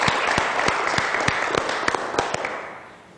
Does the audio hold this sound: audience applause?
yes